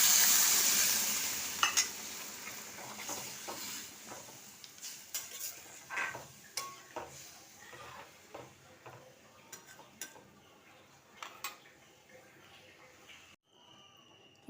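Rice and pointed gourd cooking in a pan as milk and water are added, giving a steady soft sizzle with repeated clinks and scrapes of a spoon stirring against the pan, fairly close and moderately loud.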